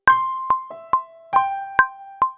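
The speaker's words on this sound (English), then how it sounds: "it's played by a little synth line that sounds like this." A short synth melody of six plucked, bell-like notes with quick decays, played alone in a bouncy, evenly spaced rhythm.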